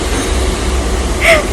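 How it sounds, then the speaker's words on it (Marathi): A loud, steady low rumble of a moving night train carriage with rhythmic rattling, and a brief high squeal near the end. "तर फायनली आता आमची ट्रेन निघाली"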